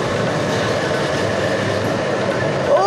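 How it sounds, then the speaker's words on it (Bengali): Super Dragon amusement ride train running at a fair, a steady loud rumble and rattle of wheels on track that continues without a break, close by, with no talk. "দেখুন সেই ড্রাগন ট্রেন"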